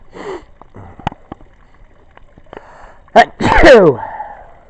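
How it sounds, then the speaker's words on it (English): A loud, explosive sneeze bursts out after a few quiet sniffs and small sounds, close by and sharp. "I feel a sneeze coming on."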